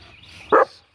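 One loud, sharp American Bully dog bark rings out close by after a moment of quiet background.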